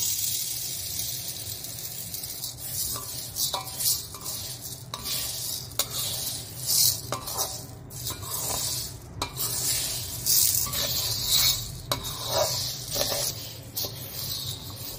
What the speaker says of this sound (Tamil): இன்னொரு பாத்திரத்தில் உளுந்த பருப்பை கொட்டி வறுத்துக்கலாம்